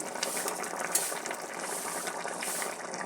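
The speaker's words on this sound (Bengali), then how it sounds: "তো তরকারি ঢাকনাটা উঠিয়ে একটু মেরে দিলাম" A spoon scrapes and clatters repeatedly inside a pot of ash gourd and fish curry with the lid lifted off, a close, continuous stirring over a soft sizzle.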